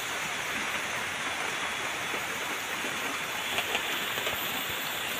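Steady rain falls around a hut at a remote villa in the forest, an even hiss of drops on leaves and surfaces, no voices heard.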